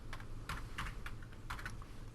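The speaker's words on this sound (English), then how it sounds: "I hit enter on my keyboard and it will add the sum for those values." Keys clack on a computer keyboard in a quiet room, with a quick run of about half a dozen soft, close presses in an uneven rhythm.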